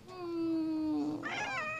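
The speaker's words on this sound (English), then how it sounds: "My cats." A house cat gives one long, clear meow that holds steady and then slides down in pitch, ending in a brief rising chirp. It is close and fairly loud, with no talk over it.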